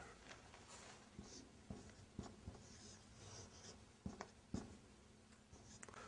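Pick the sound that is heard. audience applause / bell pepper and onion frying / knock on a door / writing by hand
writing by hand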